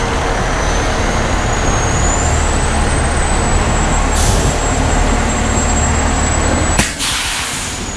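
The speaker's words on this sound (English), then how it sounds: "That was the brakes letting out." A loud, sharp burst of a fire truck's air brakes releasing at about seven seconds, cutting through a steady idling engine rumble and a high whine.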